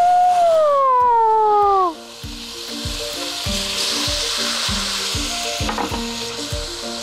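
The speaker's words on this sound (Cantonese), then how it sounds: "因为我煎猪排啊，有可能会夹喎，故所油爱下多一啲咧" A thick-cut pork chop fries in plenty of oil in a pan, a loud sustained sizzle and crackle following a brief whistling tone, with regular clicking taps underneath.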